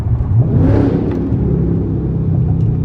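A Dodge 392 Hellcat's V8 rumbles steadily in a tunnel, with a brief rev swelling near the start before settling back into a loud, continuous, echoing drone.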